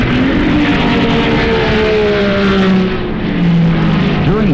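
Mazda RX-7 race cars of the GTU class at the 1979 Daytona 24 Hours, with loud engines droning and sweeping in pitch as the cars pass close by in a steady racing roar.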